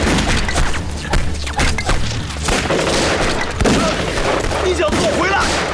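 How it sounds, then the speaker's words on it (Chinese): Gunfire in a TV drama, with repeated sharp shots and bursts crackling amid booming impacts, loud and dense across the whole stretch, mixed with scattered shouting. "枪声从那边传过来的"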